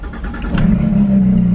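A straight-piped Porsche GT3 engine runs loud and close, a deep steady roar that swells as it is revved, with no talking over it.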